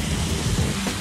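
Dense, steady rain noise on a street of closed stores fills the short stretch, a broad hiss with a low rumble underneath and no voices.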